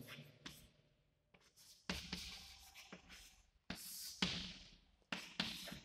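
Maxwell's equations are written on a board in a lecture room, heard as a series of quiet, close scratchy strokes in short bursts separated by brief pauses.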